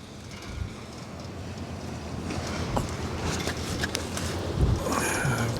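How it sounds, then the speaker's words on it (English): Gusting wind at a marina buffets a camera microphone, producing a steady loud low roar and rumble that swells and shifts throughout, with occasional rattling and flapping bursts near the end and no speech. "I'm trying to shield my camera from the wind here so I don't get blown over"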